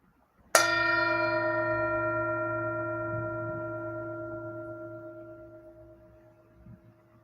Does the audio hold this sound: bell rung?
yes